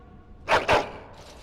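Dog in the video game Dragon Age: Origins gives two quick, close barks in a row, followed by a faint softer yip.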